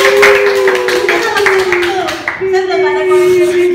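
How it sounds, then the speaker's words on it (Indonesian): Audience in a tutorial class claps in appreciation of a student named Rio, with a sustained tonal hum and talking voices running under the brisk hand claps. "tepuk tangan buat Rio"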